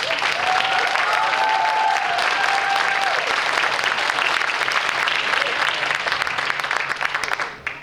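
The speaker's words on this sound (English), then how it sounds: "ask the crowd to give our contestants that have already performed one more round of applause" Sustained applause from a large crowd at a high school oratorical contest, steady and loud for several seconds before tapering off at the end.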